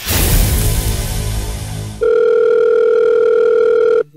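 Noisy, muffled sound gives way to a steady electronic telephone tone from an unanswered call that holds for about two seconds before cutting off.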